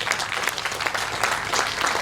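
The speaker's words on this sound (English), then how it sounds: "I think you should get a round of applause" An audience gives the band a round of applause, with dense, steady clapping filling the space at moderate volume.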